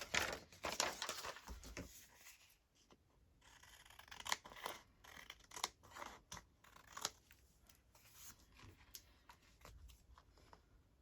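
Scissors snip and trim lined paper for a junk journal, a run of close, crisp cuts and rustling paper handling spread over several seconds, with brief pauses between bursts.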